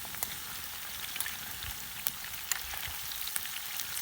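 Steady crackling sizzle of food frying in hot oil on a sac griddle over a wood fire, with scattered sharp pops over a continuous hiss, fairly close and moderately quiet.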